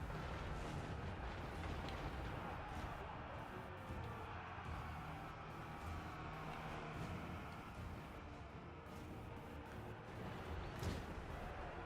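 Bolt throwers fire in a Warhammer video game battle against Skaven, with a dense, continuous rumble of booming volleys and clatter filling the scene steadily throughout, loud and without pauses or talk.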